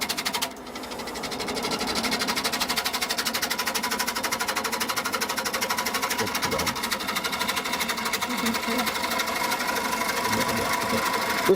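A wood lathe spins a punky pine bowl blank while a tool takes shaping cuts, giving a loud, continuous whirring drone with steady rhythmic texture throughout.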